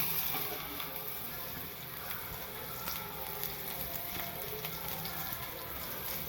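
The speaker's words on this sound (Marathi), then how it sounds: "इथं कांदा भाजत आहे कांदा ब्राऊन" Onion frying in oil in a pan, a soft steady sizzle and crackle that runs evenly throughout, faint and close.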